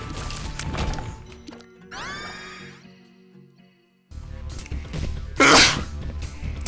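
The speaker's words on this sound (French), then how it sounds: "pardon, j'ai éternué" A single loud sneeze bursts out near the mic during a Binding of Isaac: Rebirth game session, standing out sharply against game music and effects.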